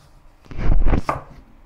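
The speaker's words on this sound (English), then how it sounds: "reserve the leaves to garnish, and chop the remainder into short sections." Coriander being chopped into short sections with a knife on a board, a quick burst of a few close, firm chops.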